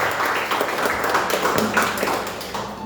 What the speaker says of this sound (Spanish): El aplauso merecido